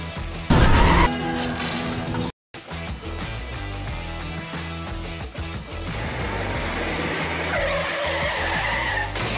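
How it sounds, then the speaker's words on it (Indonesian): A police car in a film car chase skids with squealing tires and crashes, a loud impact followed by sustained tire screeching and engine roar. "Kemudian, Buddy menabraknya menggunakan mobil polisi."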